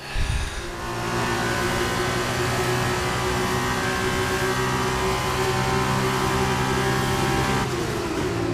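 An F2 race car in the F1 22 game accelerates at full throttle around Sakhir, its engine a loud, sustained high-pitched howl with steady harmonics that climb slightly through the gears. It is heard close and continuous, with no talk over it.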